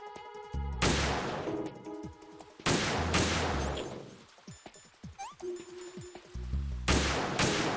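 Gunfire in Metal Gear Solid 2, several loud bursts of shots and impacts from a support position, spaced a couple of seconds apart amid clattering game effects.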